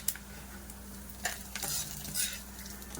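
Tomato chutney ingredients for a tomato, coriander and mint pachadi frying and being stirred in a pan, a steady close sizzle with scraping stirs in short bursts.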